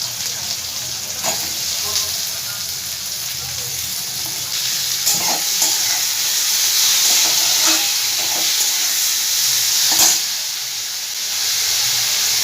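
Onion, capsicum and tomato frying in a pan, giving a steady close-up sizzle and hiss with occasional stirring clicks and scrapes throughout.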